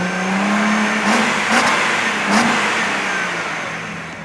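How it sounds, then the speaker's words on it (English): A 2017 Nissan GT-R engine revs with its driver-operated exhaust valve open, a loud, close throaty roar with a few sharp blips rising over a sustained drone before it slowly fades, with no one talking. "it's allowed us to introduce a driver-operated exhaust valve control system"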